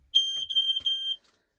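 A home smoke alarm sounds a loud, shrill high-pitched beep, one long tone briefly broken into a few segments, then it stops abruptly and silence follows.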